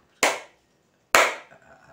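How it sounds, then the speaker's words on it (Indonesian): Two separate, sharp hand claps ring out close and fairly loud about a second apart in a quiet room, each with a short decaying tail, and a faint rustle follows the second. "Ikut tepuk tangan"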